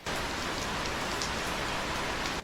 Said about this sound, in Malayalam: മഴ പെട്ടെന്ന് അങ്ങനെ കുറയണ ഒരു ലക്ഷണമില്ല ഞാൻ നോക്കിയിട്ട്